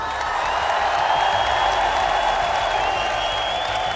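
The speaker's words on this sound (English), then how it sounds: "can you give one last applause maybe for my teammates?" The Royal Arena crowd claps and cheers for Heroic, the winning Danish esports team at BLAST Fall Finals, a dense, steady wash of applause filling the large hall.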